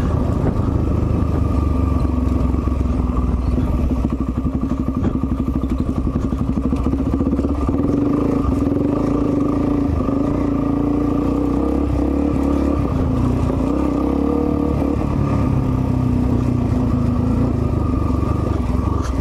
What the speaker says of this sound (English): Let's get this little bike going.